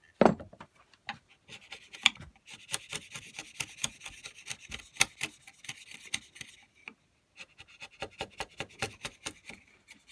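A chisel pares a joint in a timber frame, a close series of sharp scraping and tapping strokes coming in irregular clusters, with brief pauses between runs and no voices.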